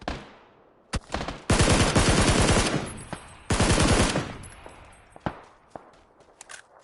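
Gunfire aimed at the player in PUBG: two loud, close bursts of rapid automatic fire, separated by single cracks and quieter gaps, with no speech.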